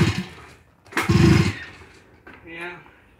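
A stretched lawn tractor with an 800cc engine gives a short, deep rev burst up close, followed by a lighter, fading engine note, with voices talking around it.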